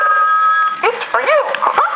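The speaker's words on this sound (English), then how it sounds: "I'll go ahead and ring it" A Mickey Mouse animated telephone gives a short electronic ring, then a cartoonish voice takes over, all loud and close.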